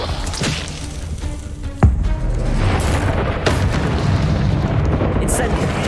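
Spell explosions in Hogwarts Legacy: a sharp booming burst with thumping impacts and rumbling crackle afterward, loud and close, mixed with voices talking.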